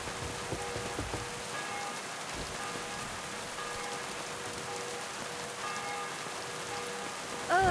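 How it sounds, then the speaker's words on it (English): Steady rain patters continuously on surfaces in a medieval game world, a dense even hiss with faint drips, moderately quiet with no talk. "it's turned out nasty again. You're right. It's awful. I don't mind a bit of rain, but there's gotta be a limit."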